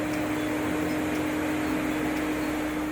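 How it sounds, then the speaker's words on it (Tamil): A car's air conditioning compressor runs steadily with the engine idling around 1500 RPM, a constant mechanical hum with a fan-like whoosh, even and unbroken throughout, with no talking over it. "பாருங்க, கம்ப்ரஸர் ஓடுது, சத்தம் கேட்குதுங்களா"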